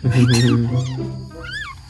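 Several hungry kittens meow in short rising-falling cries, loud and close, overlapping with a person's voice murmuring nearby.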